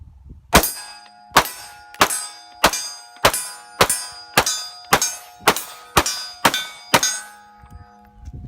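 An AR-15 rifle fired rapidly at steel targets outdoors, about eleven sharp ringing clangs in quick even succession, each hit leaving a short metallic ring, loud and close with no speech.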